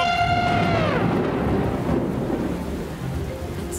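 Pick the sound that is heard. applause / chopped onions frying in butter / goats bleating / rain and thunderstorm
rain and thunderstorm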